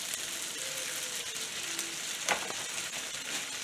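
Stir fry noodles sizzle steadily in hot oil in a pan, a constant close crackling hiss with one brief sharper burst partway through, no voices.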